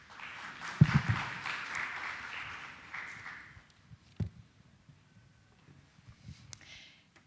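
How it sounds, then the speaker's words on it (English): Applause from a conference audience after a fireside chat session, a burst of clapping that tapers off over a few seconds, with scattered claps and faint footsteps afterward. "Can we have a big round of applause for our speakers, please?"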